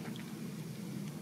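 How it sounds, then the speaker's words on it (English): Rain falls outside in a soft, steady hiss, faint and continuous throughout the short stretch. "it's raining outside"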